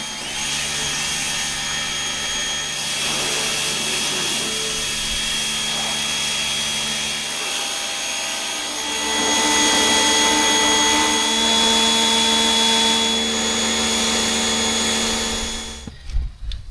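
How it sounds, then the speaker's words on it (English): Pressure washer spraying down a dirty campervan, a steady loud hiss and motor drone running unbroken for about sixteen seconds, growing stronger partway through before cutting off at the end. "So I'll just jet wash it off and you'll see the results."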